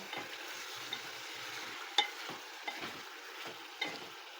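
Quiet scraping and stirring of mutton fry in a pan, soft low sizzling underneath with a few sharper spoon knocks against the metal, no voices.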